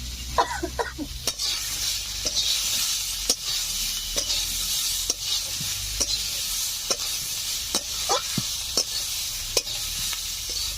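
Spices with salt and turmeric stirred in hot oil for a Bengali village-style rui fish curry: continuous sizzling hiss with regular sharp taps and scrapes of the spatula against the pan, close up.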